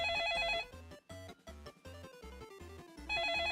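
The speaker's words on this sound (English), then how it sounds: "Hearing the annoying alarm sound ringing," An annoying alarm rings in the Seifuku Kanojo 2 video game, a loud, bright electronic tone that breaks into a rapid, regular pulsing pattern before swelling back to a sustained ring.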